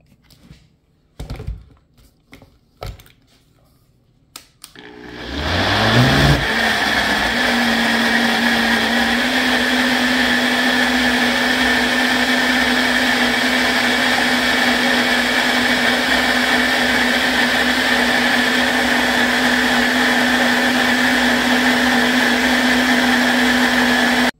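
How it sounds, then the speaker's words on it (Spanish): A few clunks and taps as the jar is set in place, then a countertop blender starts with a rising whir and settles into a loud, steady roar while it blends a mango cheesecake mixture. "Y ahora sí vamos a volverlo a licuar nada más por 2 minutos."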